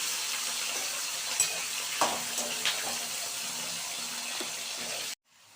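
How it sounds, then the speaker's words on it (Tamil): Cubed potatoes sautéing with cumin seeds in a pan for a Punjabi beans and potato curry give a steady, soft sizzle with a few light clinks, ending abruptly in silence. "உருளைக்கிழங்கு இதோட வதங்கிட்டு இருக்கு இல்லையா"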